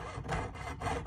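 A saw cutting a metal split-shank ring blank held in a tube cutter for jewelry making, two close back-and-forth rasping strokes in a steady rhythm, with no voices.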